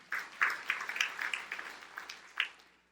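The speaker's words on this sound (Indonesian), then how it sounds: "Tepuk tangan yang meriah untuk kemudian." A small group at a church sermon gives a brief round of applause; a few sparse, uneven claps, fairly faint and short.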